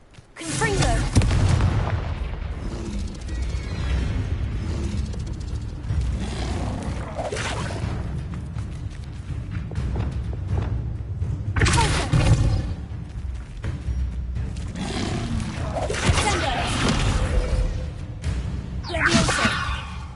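Confringo fire spells from Hogwarts Legacy on PS5 blast repeatedly with booming explosions and swooshing bursts, loud and dense throughout amid continuous game music and effects.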